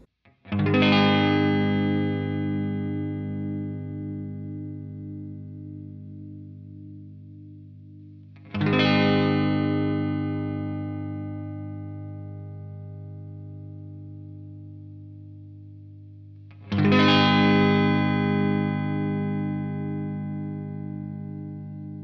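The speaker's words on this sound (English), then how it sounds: "hear the difference between these three pickup sets just on the neck pickup and just with a single chord" Three Stratocaster chords played on the neck pickup of a noiseless single-coil set struck a few seconds apart, each ringing out with a warm, chorused tone and slowly decaying before the next.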